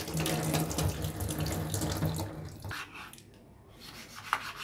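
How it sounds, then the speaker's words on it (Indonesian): Petai pod skins are rinsed by hand under a running kitchen tap, a steady close stream of water splashing and rubbing that fades off after a few seconds. "dengan air mengalir"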